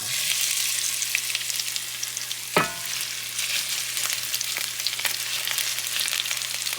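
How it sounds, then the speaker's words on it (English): Cut potato fries shallow frying in a pan of hot oil, a steady close sizzle and crackle with one sharp clatter partway through, no voices. "we're gonna dump these in to shallow fry."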